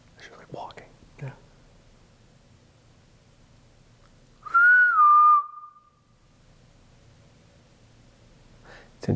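A single clear whistle, a rising then falling tone held for about a second, sounds inside a quiet funeral home. Soft whispering and faint movement come before it, and a short noise follows near the end.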